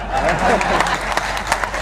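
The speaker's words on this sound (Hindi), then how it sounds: "ताली बजाओ" Hands clap in applause from the crowd at a centenary ceremony at an ashram, a dense and fairly loud patter with a few sharper claps standing out near the end.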